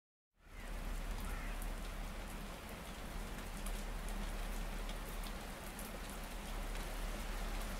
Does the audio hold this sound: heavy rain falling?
yes